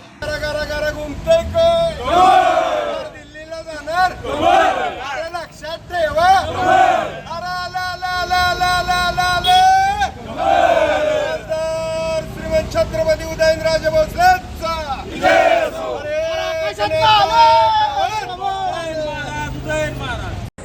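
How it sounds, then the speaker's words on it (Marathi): Supporters celebrating in Satara after a candidacy announcement, a loud crowd chanting and shouting slogans in repeated waves, with amplified voices over the cheering throughout. "उमेदवारी जाहीर झाल्यानंतर साताऱ्यात समर्थकांनी जल्लोष केलेला आहे"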